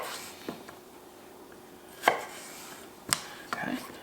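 A knife chops through a potato on a cutting board, cutting it into half-inch strips for hand-cut fries, giving a few sharp, separate thuds spaced out across a quiet background.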